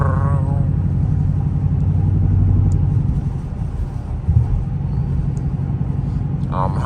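A Dodge Charger R/T's engine rumbles loud and steady while driving, with a deep, droning low drone from inside the cabin that holds throughout and shifts slightly midway.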